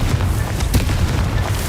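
A dense, rumbling magical fire blast from the Confringo spell in the video game Hogwarts Legacy, a loud sustained boom with crackling bursts filling the whole moment.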